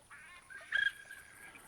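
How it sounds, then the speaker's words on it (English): A northern pintail duck's brief whistle in the hunting video game theHunter Classic, a single short, faint call over quiet ambience, with no talking. "And without even seeing it, I know it's pintails."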